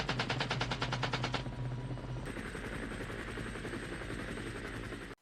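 Helicopter rotor thudding in a Vietnam war film while a door gunner fires a machine gun, rapid bursts of fire over the steady chopping drone for the opening seconds before the rotor continues alone and cuts off.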